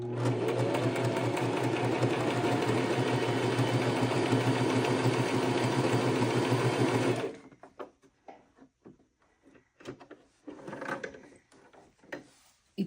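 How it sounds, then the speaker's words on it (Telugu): A sewing machine stitches plain cloth in a loud, fast, steady whir for about seven seconds, then stops, leaving scattered clicks and rustles of fabric handling. "ఉట్టిది మామూలు క్లాత్ దీంతో కుట్టి చూద్దాం ఎట్లా వస్తుంది అనేది."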